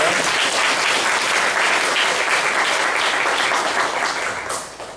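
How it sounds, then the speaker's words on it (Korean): A church congregation applauding, a dense, loud, steady burst of many people clapping that continues for several seconds and tapers slightly at the end. "아버님의 건강 회복을 바라면서 응원의 박수를 부탁드리겠습니다"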